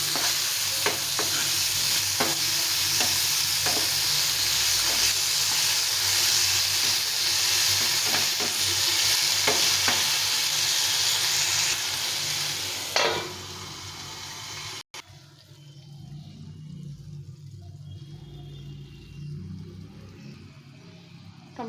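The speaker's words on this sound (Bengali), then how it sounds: "টমেটোটাকে সেদ্ধ করে ভেজে নেব।" Boiled tomatoes frying in a pan, a loud steady sizzle with stirring scrapes for about thirteen seconds, then the heat drops to a much quieter hiss.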